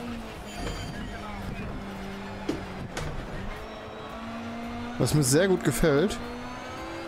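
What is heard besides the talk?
Lancia Delta HF Integrale Evo engine revving near rev limiter, Need for Speed Shift 2 video game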